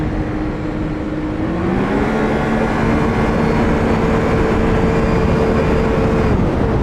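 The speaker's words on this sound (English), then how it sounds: "the Yamaha Sidewinder is a sled that has all kinds of speed to it" A 2024 Yamaha Sidewinder L-TX LE snowmobile runs along soft snowy trails, its engine a loud, steady close-up roar with a droning tone that climbs in pitch as it accelerates, then holds high.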